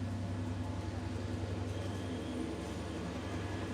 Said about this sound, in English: I'll just let the train take over my stream.